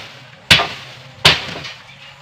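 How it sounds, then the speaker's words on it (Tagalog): Two sharp hammer blows while demolishing an old cage, each a loud close crack with a brief ringing decay, spaced under a second apart. "martilyo."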